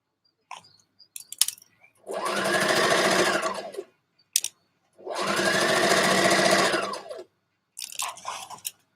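A sewing machine runs along a dress seam in two sustained whirring bursts of about two seconds each, close and clear, with scattered handling clicks and fabric rustles in between and no talk.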